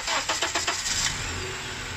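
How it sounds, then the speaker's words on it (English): A car engine cranks over on its starter motor during a starter test, several quick rhythmic turns catching and settling into a steady idle, close and fairly loud with no talking. "It says start engine. So this test is going to test the starter motor."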